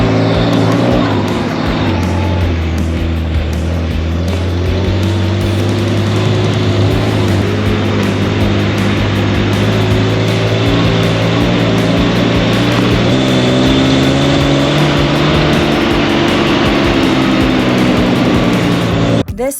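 A first-generation solid-axle-swap Toyota 4Runner engine roars loud and close as it rips around sand dunes at Sand Hollow, revving and surging steadily with no break, a faint voice mixed in.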